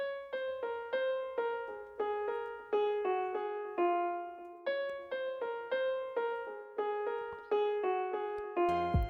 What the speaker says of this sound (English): Yamaha grand piano preset that I love using